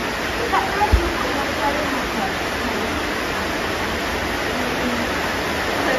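Steady, dense rain falls throughout as a continuous broadband hiss at an even level, with a faint thump near the start and no clear talk over it.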